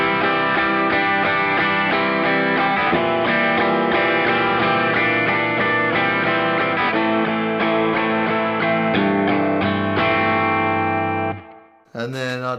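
Electric guitar played through an ambient Kemper profile preset with the micro pitch chorus switched off, a sustained, distorted, effects-heavy chordal passage ringing steadily before briefly cutting out near the end.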